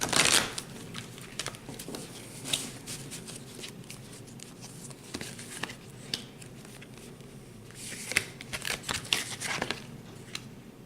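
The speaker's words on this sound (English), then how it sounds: "I'm going to go ahead and shuffle the cards and think of the energies for this week" A deck of tarot cards shuffled by hand, giving a soft, continuous riffle and slide of card stock with scattered sharper flicks and a busier burst near the end, close up and unaccompanied by speech.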